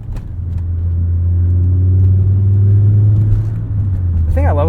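A 1997 Volvo 850 R with a five-speed manual cruises at night, its engine a steady, loud low rumble that holds on throughout, with a brief higher whine near the end.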